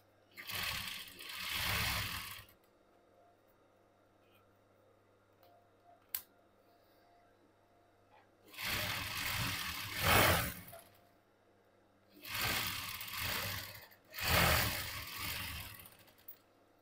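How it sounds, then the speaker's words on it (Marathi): A sewing machine stitches a straight seam on a blouse sleeve in four separate runs of rapid mechanical whirring, each about two seconds long, separated by quiet pauses with a small click, close and moderately loud with no talk. "आता पहिल्यांदा सरळ टीप मारायची आहे."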